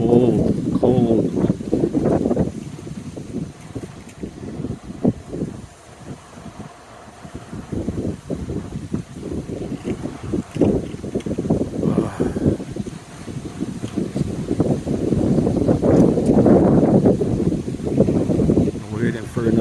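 Gusts of wind around 35 mph in Boca Raton, Florida, roar and buffet the microphone in waves, easing briefly before surging again, with a person talking over it.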